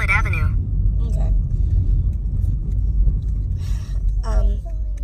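A car's steady low road rumble fills the cabin from inside while driving, loud and continuous, with a few short bursts of talking over it.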